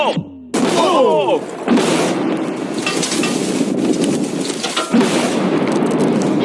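A loud explosive blast bursts out after a brief lull, followed by a sustained roaring rumble and debris noise, with a second surge near the end.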